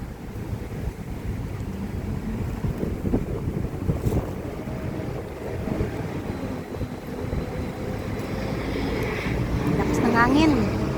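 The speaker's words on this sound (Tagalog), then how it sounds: "Lakas ng hangin." Strong wind buffets the microphone in a steady low roar, rising slightly toward the end, with faint distant sounds mixed in.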